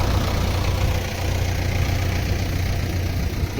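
A tractor engine runs steadily while pumping out floodwater near a rain-hit road in Amaravati. It gives a loud, continuous low rumble and drone with no break, and no one speaks.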